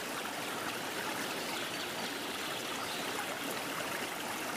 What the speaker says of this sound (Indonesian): tambahkan air matang biasa atau air es